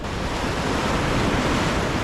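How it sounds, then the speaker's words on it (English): Ocean waves wash against a remote island shore in a steady, loud roar mixed with wind buffeting the microphone. "The waves are rocking nicely too."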